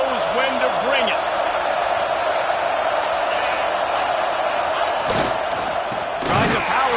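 A roaring stadium crowd in the College Football 26 video game, Texas versus Arkansas, keeps up a steady wall of cheering with a few louder thumping surges, under a commentator's voice.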